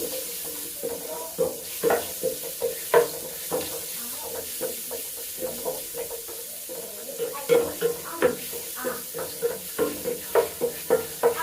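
Garlic frying in oil in a pan for chicken manchurian, a steady sizzle under repeated rhythmic stirring scrapes, close and moderately loud throughout.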